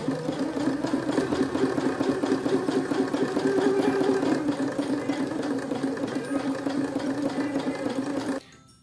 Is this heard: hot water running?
no